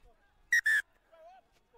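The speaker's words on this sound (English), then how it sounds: "Get a double tap on the whistle." A referee's whistle at a Premier Grade rugby semi-final gives two short, sharp, shrill blasts in quick succession, clear over faint background sound.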